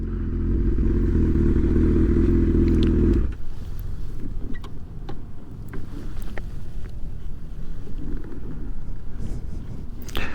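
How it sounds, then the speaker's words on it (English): A motorcycle engine roars loudly and steadily for about three seconds during wheelie practice, then drops away to rough, gusty wind buffeting and faint mechanical clatter for the rest of the ride. "while I'm out here doing these wheelies"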